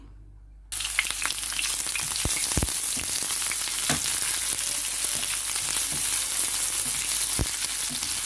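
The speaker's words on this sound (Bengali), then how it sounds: "তিন টেবিল চামচ তেল তেল নিলাম রেগুলার তেল যেটা আমরা খাই সেটাই এর ভেতর আমি পেঁয়াজ কুচি দিয়ে দেব" Chopped onion, about a cup, drops into three tablespoons of hot regular cooking oil in a pan for meatballs, erupting into a loud continuous sizzle after a quiet opening, with a few sharp clicks of a utensil against the pan.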